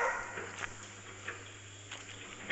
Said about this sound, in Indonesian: Anjing aku nampak monyet, jadi mereka bergonggong-gonggong.